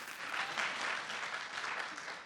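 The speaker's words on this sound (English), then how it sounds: "Clap your hands." An audience claps steadily for a couple of seconds, a soft, even wash of applause heard from a distance.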